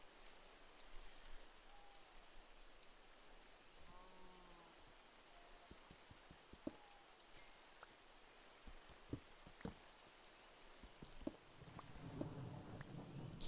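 Rain and thunder in the Minecraft video game, a soft continuous patter of rainfall with scattered clicks and drops, a low rumble building toward the end, and no voices.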